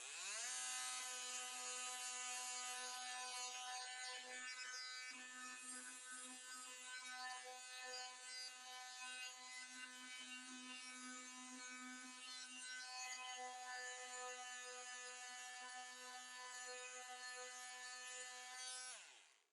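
A brushless oscillating tool sands with 80 grit paper, a loud, steady buzzing drone with a faint rasp of abrasive on the workpiece, running continuously before cutting off at the end, close and alone.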